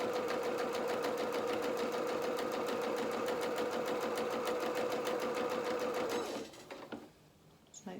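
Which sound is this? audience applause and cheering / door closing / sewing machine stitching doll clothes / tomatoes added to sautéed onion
sewing machine stitching doll clothes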